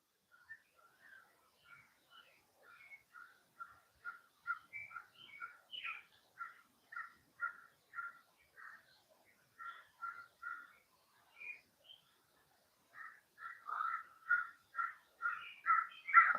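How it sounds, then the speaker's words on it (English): Crows caw repeatedly in quick series of harsh calls as they fly in to land, faint at first and growing louder and nearer toward the end, with quiet gaps between bursts. "I hear the crows coming back."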